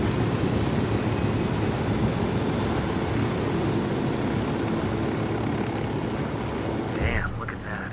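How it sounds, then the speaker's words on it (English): A helicopter approaches in the video game Ghost Recon Wildlands, a loud continuous rotor and engine roar that holds steady and then cuts off abruptly near the end, with a voice briefly speaking under it. "Hit the dirt. Helicopter."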